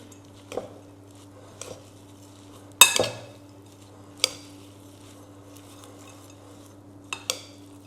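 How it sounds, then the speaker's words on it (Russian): A spoon clinks against a bowl while pumpkin filling with cinnamon is stirred, producing a few scattered, quiet taps and scrapes over a low steady hum. "Вот так перемешиваем."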